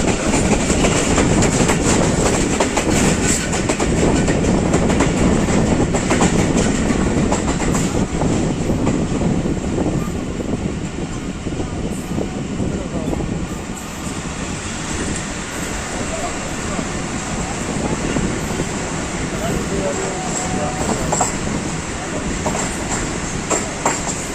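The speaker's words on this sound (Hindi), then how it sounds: "40 डाउन जाफर एक्सप्रेस पहुंच रही है गुजरांवाला।" Jaffar Express train pulling into Gujranwala station, a steady loud rumble of rolling wagons with faint clickety-clack and occasional wheel squeal throughout, a voice talking over it.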